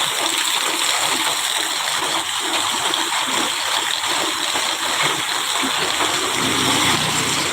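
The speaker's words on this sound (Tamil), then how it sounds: "வாய்க்கால் ஃபுல்லாக தண்ணி ஓடிக்கிட்டு இருக்கு" Water rushes steadily through a full irrigation channel in rain, a constant, loud gushing flow with splashing texture, continuing without pause throughout.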